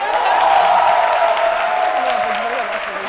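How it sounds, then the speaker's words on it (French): A studio audience applauds on a French-language midday television show, clapping continuously while a voice or music tone carries through the sound, fading slightly toward the end. "Si vous n'applaudissez pas, elle va pleurer"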